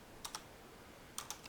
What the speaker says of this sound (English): just go to Google and type in Spinz TV